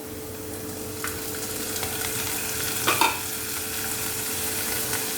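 Onions, carrot, green peas and capsicum stirred and sizzling together in a pan, a steady close fry with a few soft scrapes of the spoon, no talking.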